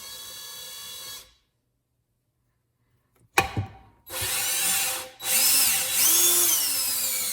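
A drill spins a valve against lapping compound in a 1962 Slant Six cylinder head, close and loud, in several whirring bursts that rise and fall in pitch, broken by a silent pause and a sharp knock.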